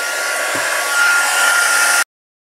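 A heat gun melts embossing powder, giving off a steady, loud, close blowing whir with a faint tonal hum for about two seconds before it shuts off abruptly into silence.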